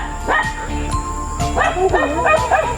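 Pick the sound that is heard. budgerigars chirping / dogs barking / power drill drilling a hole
dogs barking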